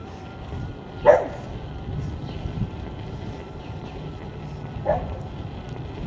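A dog gives two short barks a few seconds apart, heard outdoors on a city path over steady wind rumble from a moving electric unicycle.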